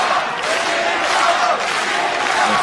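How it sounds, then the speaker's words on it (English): A crowd of MMA fans cheering in an arena, a dense, loud and steady roar of voices and applause that fills the whole short stretch without a break. "The fans are absolutely cheering"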